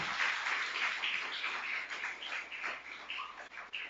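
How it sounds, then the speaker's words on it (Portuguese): A church congregation claps in sustained, dense applause at moderate distance, a steady crackling patter that rises and falls over several seconds without speech. "Você pode aplaudir o nome do Senhor?"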